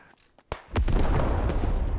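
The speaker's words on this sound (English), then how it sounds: "There's a mortar as well." A sharp mortar blast in the video game Squad followed by a heavy, rolling rumble that swells and lingers, loud and close.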